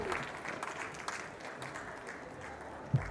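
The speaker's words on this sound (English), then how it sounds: "Once again, please give a huge round of applause for the winner, Studio Jane Designs, Neha Garg." Applause for an award winner at the Smart Space Awards 2025 ceremony, a steady wash of clapping from the audience that holds at a fairly even level, with a single sharper knock near the end.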